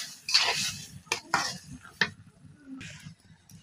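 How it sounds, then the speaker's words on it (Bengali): A spatula scrapes and stirs cooked taro stems together with shrimp in a pan, giving a few sharp scraping strokes separated by short pauses and a faint background sizzle. "এবার আমি এই সব কিছু একসাথে মিশিয়ে নিব।"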